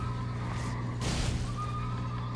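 A horse whinnies in Elden Ring, a single loud neigh that surges near the middle over steady game ambience and droning music.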